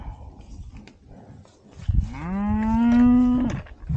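A cow in a field lets out one long, loud, close moo that swells and holds for almost two seconds, rising out of quiet outdoor background with no talking.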